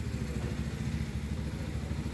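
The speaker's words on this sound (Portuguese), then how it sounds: "Olha o som do motor." A Triumph motorcycle engine runs with a fast, even low thrum and slight clatter, quiet and steady as if played back from a recording.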